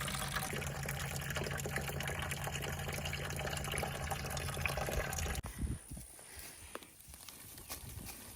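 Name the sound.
liquid worm juice being poured into a bucket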